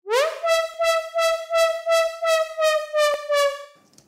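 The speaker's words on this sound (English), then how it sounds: "So in Serum, this sound is really just a saw wave," Serum synth lead built on a detuned saw wave, playing a bright, buzzy run of about ten evenly spaced pulsing notes, each bending slightly up and down in pitch, loud and alone before a short fade.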